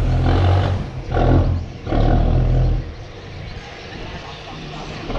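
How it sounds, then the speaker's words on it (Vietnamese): A large Vietnamese boat running a Cummins G4 750HP engine as it comes alongside a dock, giving three heavy, rumbling bursts of low engine roar and then settling to a quieter idle. "Chạy máy Cummins G4 nha các bạn."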